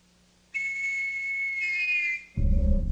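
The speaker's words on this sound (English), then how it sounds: "The sound of a scout whistle." A scout whistle blows a single sustained shrill tone for about two seconds, loud and clear, followed by a sudden low thump.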